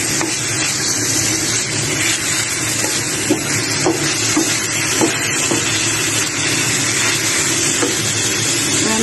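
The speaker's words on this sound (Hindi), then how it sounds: "अब हम इसमें ये चिकन डाल देंगे तो चिकन को हम फ्राई करेंगे जब तक ये वाइट नहीं हो जाता है" Chicken pieces frying in a pan for white sauce pasta, giving a continuous loud sizzle and hiss with occasional soft stirring clicks, with no talking throughout.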